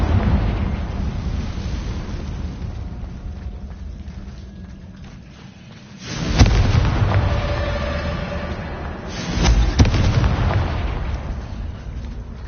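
Two Confringo fire spell explosions in Hogwarts Legacy, each a sharp loud burst followed by a rolling rumble, the first near six seconds and the second near nine and a half, after a quieter stretch of ambient game sound.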